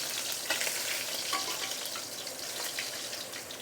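Fish fries in a hot wok with a steady bright sizzle and spatter, occasional crackles and light stirring clinks rising above it, close and moderately quiet with no talking.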